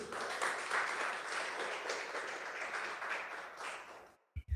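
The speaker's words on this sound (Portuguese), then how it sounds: "Você pode aplaudir o Senhor Jesus?" A church congregation applauds in a steady, moderately distant wash of clapping that holds for about four seconds, then cuts off abruptly.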